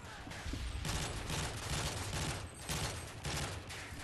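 Rapid, sustained automatic gunfire from Call of Duty: Modern Warfare 3, loud and dense with overlapping bursts throughout and only a brief dip near the middle.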